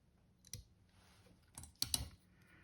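Small scissors trim the excess thread from a freshly tied trout fly, a few quiet, crisp snips and clicks spaced over a couple of seconds at close range.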